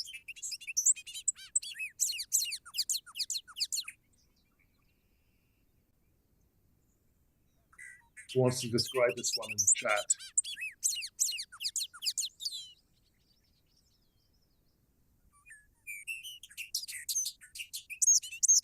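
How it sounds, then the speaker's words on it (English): Bobolink song: bursts of bubbly, tinkling, rapidly jumbled high notes with metallic, almost robotic twists, given in three separate phrases with clean pauses between them, and a speaker briefly talking over the middle. "Some birds, like this bird, the bobolink, have songs that almost defy description."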